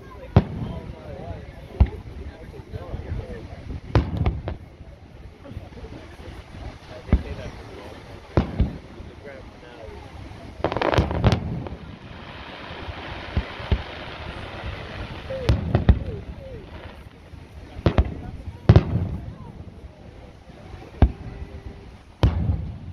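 Fourth of July 2022 fireworks at Redondo Beach crack and boom in scattered irregular bursts, some loud and sharp, others distant, with people talking and reacting throughout.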